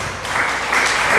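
Church congregation applauding, a dense, loud wash of clapping from many hands that swells slightly toward the end of the brief burst.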